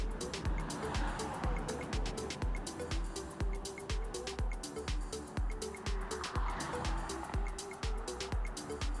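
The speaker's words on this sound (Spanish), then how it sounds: "esta carretera va de norte a sur del país, acá en Chile. Y está pero plagada de camiones que llevan madera para arriba y para abajo" Steady road traffic on a north–south highway in southern Chile busy with timber trucks, a continuous engine and tire roar with repeated passing vehicles at a fairly even pace and no talking.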